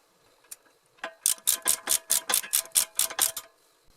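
A wrench ratchets on a Ford Mustang's rear brake bolts during a rotor and pad change: one click, then a steady run of about a dozen crisp, evenly spaced ratchet clicks, close and loud with no talking.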